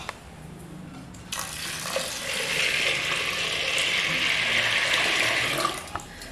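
Horse gram is washed in water by hand: a few soft splashes at first, then a sustained swishing and sloshing of grains in a bowl up close, ending with a couple of light knocks.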